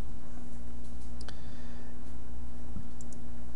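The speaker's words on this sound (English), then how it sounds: "I'm just going to type this in as hello" Computer keyboard being typed on, a few soft, scattered key clicks over a steady low background hum, with no talking.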